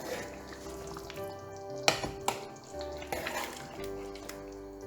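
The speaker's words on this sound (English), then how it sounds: "After mixing our meat and potatoes" Mutton and potatoes being mixed in a pot for aloo gosht, soft scraping and stirring over a low sizzle, with a few sharp clanks of the utensil against the pot.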